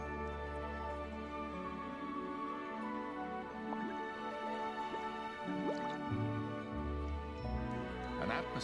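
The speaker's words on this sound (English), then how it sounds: "bubbles of oxygen." Oxygen bubbles rise through water, making soft bubbling and dripping sounds over a low, murky background. The sound is faint and continuous, with occasional small glugs.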